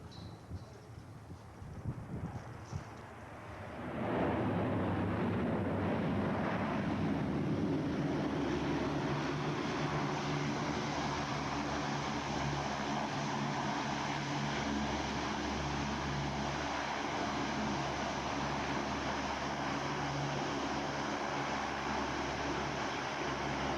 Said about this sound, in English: As he touches down, we apply maximum braking and maximum reverse to stop in as short a distance as possible.